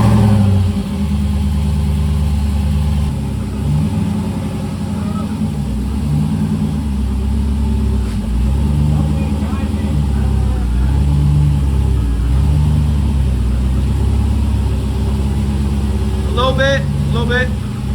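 An LS-swapped Mazda RX8 runs steadily with a rough, rumbling mid-pitched engine note that rises slightly as it is put in gear and pulled out slowly, people talking over it throughout.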